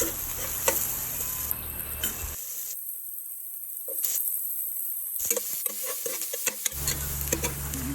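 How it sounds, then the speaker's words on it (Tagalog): Garlic, onion and ginger fry in a pan with a close, steady sizzle and scattered stirring clicks and taps; the sound drops out briefly midway, then the sizzle and scraping return. "ginisa ko na yung bawang, sibuyas, at pagkatapos ay lalagay ko din yung luya"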